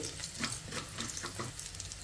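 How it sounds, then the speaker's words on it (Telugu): Tempering spices crackle and sizzle in hot oil close by, with quick irregular pops over a steady frying hiss. "ఇంకా ఈ పోపు దినుసుల్ని ఫ్రై చేసేసుకోవాలి"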